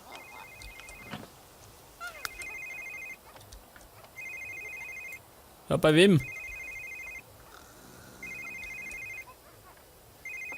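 In The Sims 3, a game telephone rings in a run of evenly spaced electronic trill bursts, with someone talking between them and a brief louder vocal outburst midway.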